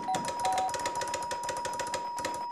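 Electric doorbell at an apartment door in an Egyptian TV drama scene, ringing in a fast continuous rattling buzz for the whole stretch. It is loud and close, with no talk over it.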